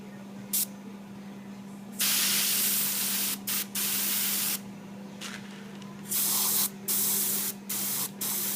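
Aerosol spray finish applied to a Carvin bass guitar neck: repeated close bursts of loud spraying hiss, some brief and some lasting a second or more, separated by short gaps over a steady low hum.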